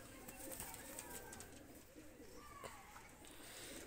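Two old-generation Desi Giribaz pigeons, a female among them, let loose, giving faint low cooing calls over a steady background hiss with scattered soft chirps and rustles throughout.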